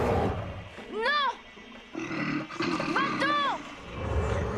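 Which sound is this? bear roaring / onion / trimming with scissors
bear roaring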